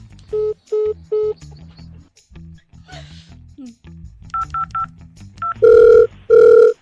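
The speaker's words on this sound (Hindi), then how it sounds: "अब तू देख, मैं चाचा को फोन कर रहा हूँ" Phone keypad tones as a call is dialed, a string of short beeps followed by longer loud ring tones, with some quiet voice in between.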